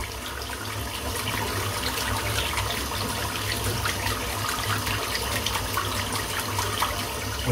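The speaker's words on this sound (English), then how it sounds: "I'm just rinsing the brush out now." A shaving brush rinsed under running tap water at a sink, a steady close splashing flow that continues evenly throughout with no voices.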